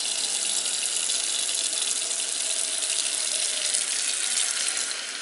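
Water runs steadily and close by with a soft, continuous hiss as it drips through a filter for bubble tea, like a light stream trickling, with no voices.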